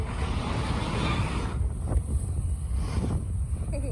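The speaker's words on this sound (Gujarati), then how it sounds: "કેટલો મસ્ત પવન" Strong wind buffets the microphone in a loud, constant rumble, easing slightly partway through with faint voices underneath.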